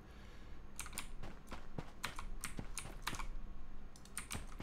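Soft, close keyboard typing on a computer, with irregular clusters of light key clicks and taps, one of them a press of the tab key, over a quiet background.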